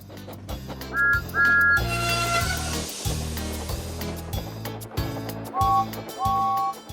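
A narrator whistles a short steam-engine toot, two quick high peeps followed later by two more, each a bright tonal burst over a soft musical backing.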